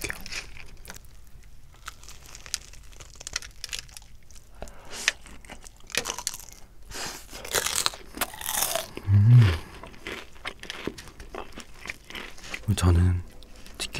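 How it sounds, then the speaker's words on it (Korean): Crunchy bites of snowing cheese fried chicken, a cheese-powder-coated Korean fried chicken, eaten close to the mic in an ASMR setting, with two loud crunches standing out over quieter chewing and rustling. "레바넨 스노잉 치즈치킨 먹어볼게요"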